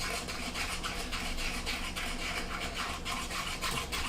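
Soft, steady scraping and rubbing of a spoon stirring milk, sugar and agar agar powder in a pot, quiet and continuous with no talking.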